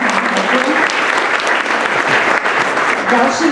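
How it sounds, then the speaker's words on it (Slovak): Loud, dense applause from an audience at a ceremony honouring pupils and students, many hands clapping steadily and evenly throughout with no pause. "Myslím, že si ešte zaslúžia aj potlesk."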